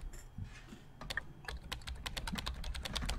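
Computer keyboard typing in the game Emily is Away Too, a steady run of rapid close key clicks that grows denser and more regular as it goes, with no voice over it.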